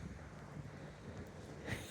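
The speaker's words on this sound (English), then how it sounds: "I'm sorry if you guys can hear the wind." Strong wind buffets the microphone outdoors on a gusty day, a steady low rumbling roar that swells briefly near the end, with no voices.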